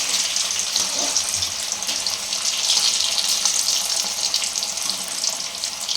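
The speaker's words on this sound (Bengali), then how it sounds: "আলু কাটাগুলো ভেজে নিচ্ছি।" Cut potatoes frying in oil make a dense, steady sizzle that runs unbroken and close, with a faint clatter low underneath.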